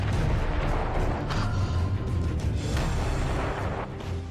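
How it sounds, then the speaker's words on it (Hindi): Ukrainian army T-30 cannon on the Bakhmut front firing shells, a dense, continuous rumble of heavy booms and blasts filling the whole stretch at steady loudness, with no voices. "ये यूक्रेन आर्मी की T-30 तोप है और यहां इससे लगातार गोले बरसाए जा रहे हैं।"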